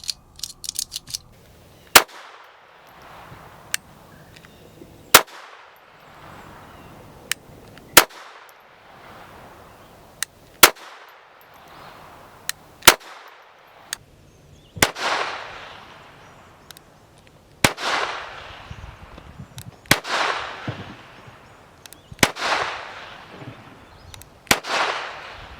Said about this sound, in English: I've shot a lot of rounds through this handgun.